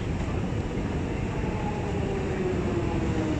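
A London Underground train rumbles steadily and loudly through a tube tunnel, with a rising whine from the motors over dense low roar.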